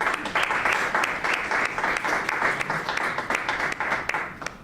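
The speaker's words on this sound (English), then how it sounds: "So please join me in a warm round of applause to welcome our speakers here today." An audience claps steadily to welcome speakers at a feminism talk, a dense continuous round of applause with individual claps standing out, moderately loud and alone without talk.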